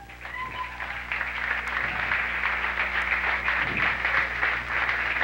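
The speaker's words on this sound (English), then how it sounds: "let's have a round of applause for Tom and for Dan" Audience applause for two contestants, Tom and Dan, on a gay dating game show, a steady wash of clapping that fills the whole stretch at moderate level without talk over it.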